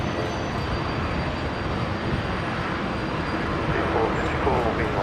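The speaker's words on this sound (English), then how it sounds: "Link Airways Saab coming in here from Orange down in New South Wales." A Link Airways Saab airliner from Orange arrives at Brisbane airport, a dense, steady propeller-engine roar filling the whole stretch and growing slightly louder near the end.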